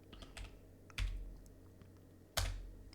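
Computer keyboard typing during a PC build with a 9070 XT, 7800X3D and NR200P MAX V2 case: a few soft scattered keystrokes, then two sharp louder key strikes near the microphone, with no voices.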